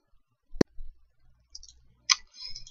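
A computer mouse clicks sharply during a software installation, with two distinct crisp clicks spaced about a second and a half apart in a quiet room, plus faint handling noise between them.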